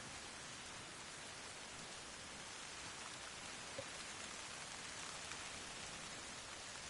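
Steady, dense rain in the video game Arma Reforger hissing across a broad range, fairly quiet and continuous, with no voices and only a faint tick or two breaking the wash.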